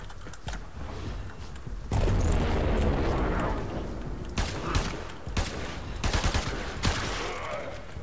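Bursts of Braton Prime rifle fire in Warframe bringing down an Arid Butcher Eximus, rapid cracking volleys over a dense rumbling game soundscape, with sharp shot clusters repeating through the second half.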